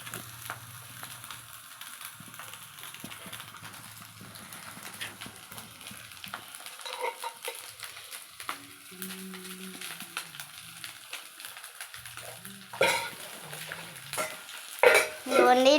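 Food with grated carrot being stirred and mixed in a pan in a home kitchen, with irregular scraping and clattering spoon strokes over a faint sizzle, growing louder toward the end.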